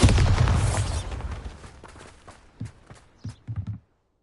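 A Bombarda blasting spell going off in Hogwarts Legacy: a loud, booming explosion that fades over a second or so, followed by a few smaller thuds and pops.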